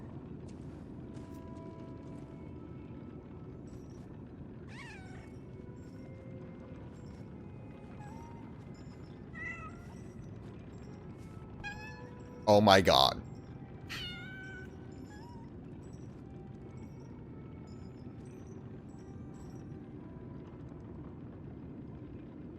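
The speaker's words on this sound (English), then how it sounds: "It's a small kitten." A small kitten in the video game Lies of P gives several short, high meows spread across a steady low game ambience. A voice briefly exclaims partway through.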